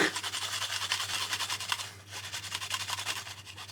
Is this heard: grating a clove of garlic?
yes